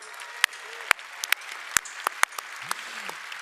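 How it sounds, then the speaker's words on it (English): Scattered hand claps from an audience at Lenovo Tech World inside The Sphere, about ten sharp separate claps spread across a few seconds, with no voices over them. "shall we clap hands for Wei?"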